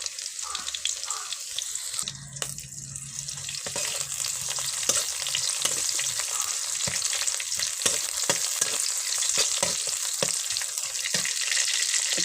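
Chopped garlic and green chilies frying in mustard oil in a wok, a continuous close, bright sizzle with scattered crackles and pops as the pieces are stirred, running steadily throughout with no talk.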